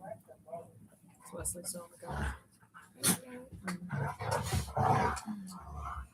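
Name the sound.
dogs barking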